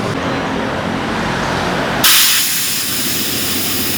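A pump pushes air into a flat rear motorcycle tire, a steady loud hiss of rushing air that shifts abruptly to a sharper, brighter tone partway through and then continues evenly.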